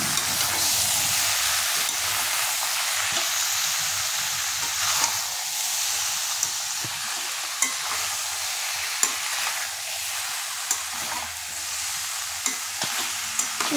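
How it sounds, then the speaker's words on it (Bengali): Spices with ground cumin being stirred in a hot pan: a bright, steady sizzle with regular scraping and tapping of the spoon, close and fairly loud, no voices. "এবার আমরা ভালো করে এটাকে নেড়ে নেব"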